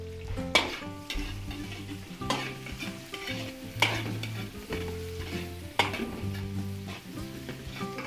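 Onions and chicken gizzards sauté in a pan with a continuous sizzle and repeated spatula scrapes and clatters that recur in a loose rhythm, close and fairly loud.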